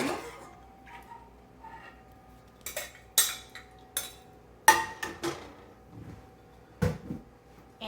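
Whipping cream stirred into a chicken alfredo sauce, with a utensil clinking and knocking against the pan in irregular, scattered taps and short scrapes amid quiet gaps.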